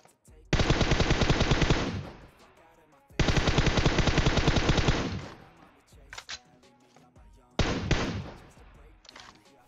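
Rapid bursts of automatic gunfire in a video game, two long volleys followed by shorter ones, sharp and loud with brief pauses between.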